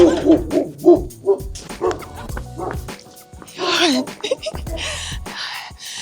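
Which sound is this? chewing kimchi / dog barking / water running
dog barking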